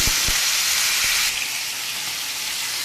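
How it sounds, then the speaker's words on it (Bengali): Hilsa fish frying in a pan, a loud, steady sizzle and hiss that drops slightly in level partway through, with a few soft knocks at the start and no voices. "আর এদিকে মাছ ভাজা বসিয়ে দিয়েছি"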